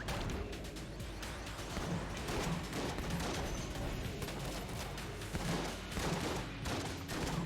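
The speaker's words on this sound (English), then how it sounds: "this Beastly Pistol seems kind of garbage" Rapid gunfire from the Beastly Pistol in the roguelike shooter Enter the Gungeon, a dense steady barrage of repeated shots with crashing impacts running throughout, loud and continuous with no speech.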